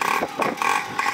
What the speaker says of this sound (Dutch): Trap die twee takt weer in